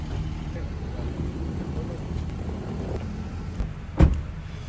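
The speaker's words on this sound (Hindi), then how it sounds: "जैसे जैसे गाड़ी आगे बढ़ रही है" A car drives along a road toward Jhelum, its engine and tyre rumble a steady low drone with a short bump near the end, and faint background voices.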